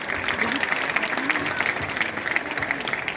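Dense, steady applause from an audience at a Hindi kavi sammelan poetry recital, loud and continuous throughout, with a voice heard faintly alongside the clapping.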